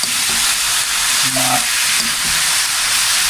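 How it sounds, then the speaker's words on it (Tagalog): Food being sautéed in a pan to drive off its fishy smell, giving a loud continuous sizzle with brief stirring clatters, no talking. "Igisa-gisa muna natin ito para mawala yung lansa."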